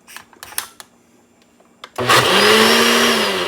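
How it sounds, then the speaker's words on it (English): A blender starts up after a few small clinks and knocks, then whirs loud and steady while blending a creamy pea pasta sauce with Asiago cheese, its motor pitch rising slightly as it runs. "And then blend again."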